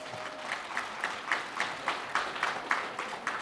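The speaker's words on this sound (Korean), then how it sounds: "박수 한번 좀 부탁드리겠습니다" Applause from an event audience, moderately loud and fairly steady, swelling in soft pulses over a few seconds with no talk on top.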